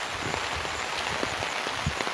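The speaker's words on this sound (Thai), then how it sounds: "น้ำไหลแรงอยู่" A full stream after rain rushes strongly, a steady close hiss and roar of flowing water with small splashy bursts.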